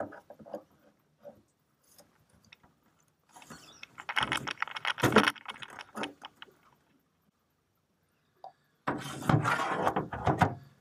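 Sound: adjustable wrench loosening a corroded boat steering cable fitting

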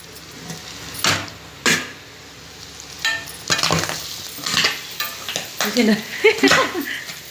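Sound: boti (tripe) curry popping and frying in pan

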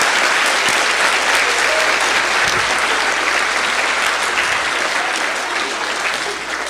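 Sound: students applauding teachers and staff

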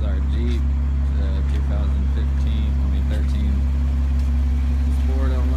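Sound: Jeep engine idling

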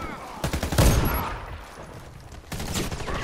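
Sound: shotgun gunfire in the video game Warface

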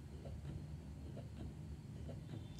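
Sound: Medela breast pump running in suction mode, level 4

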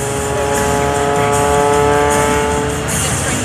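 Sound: aerobatic airplane doing an inside knife edge spin at airshow

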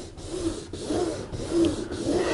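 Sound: rubbing PVC boat hull with solvent-soaked cotton wool

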